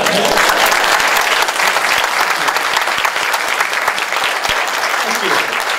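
Live audience applauding continuously at a comedic music performance, dense steady clapping filling the whole stretch, close and loud.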